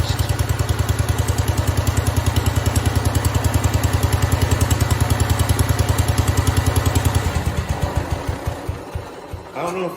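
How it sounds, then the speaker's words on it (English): A 1969 John Deere 112 lawn tractor engine idles close by with a steady, loping single-cylinder thump, suspected of having a mouse nest in the muffler; the rhythm slows and falters near the end. "I'm probably going to go on ahead and warm that engine up"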